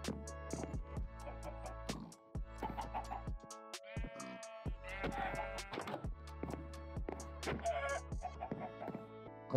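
Minecraft chickens cluck in short, repeated game sound effects, with bursts spaced throughout and layered over other blocky game noises.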